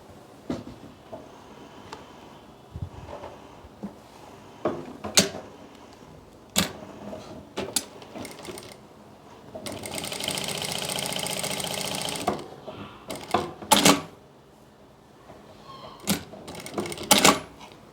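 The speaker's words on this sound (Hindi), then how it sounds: "पहले यहाँ से यहाँ तक सिलाई लगाएंगे" A sewing machine stitches a collar strip for a stand-collar short kurti, running in one steady burst of about two seconds amid scattered clicks and handling knocks, close and alone.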